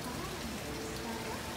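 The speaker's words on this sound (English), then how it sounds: "all of a sudden it got dark and just started raining" Steady rain falls outside during a sudden storm with blowing trees, a dense, even hiss of drops on surfaces filling the whole moment at low level, with no voices.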